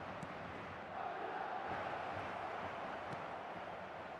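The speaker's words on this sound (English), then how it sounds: "the crowd are reacting to that now" Stadium crowd noise in the eFootball PES 2025 football video game, a broad steady roar that rises slightly after the first second and holds, with no voices in the clip.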